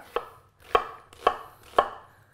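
A knife chops through half an onion on a board for bulgogi marinade. Four distinct, evenly spaced chops land close and crisp, with no talk.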